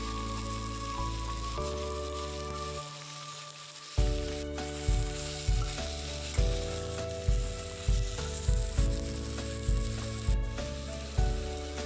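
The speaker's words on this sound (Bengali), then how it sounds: "পেঁয়াজের সাথে ভালো করে টমেটোটা ভেজে নেব।" Green tomatoes and onion sizzling steadily in a pan, with a faint musical tone underneath and regular soft knocks of stirring.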